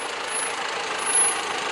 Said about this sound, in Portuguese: agora vai descendo com o Toyota, vamos atravessar o Rio Guariba